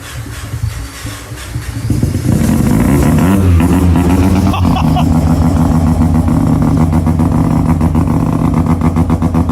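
Rotary-swapped Subaru BRZ engine running, starting quieter and then settling into a loud, steady, buzzy idle with a rapid pulsing beat, close up.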